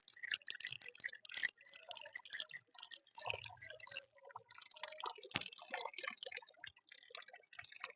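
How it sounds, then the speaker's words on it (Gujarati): Water splashes and trickles irregularly nearby on a path to a temple, with scattered drips and gurgles coming in uneven bursts. "પાણી આવે છે"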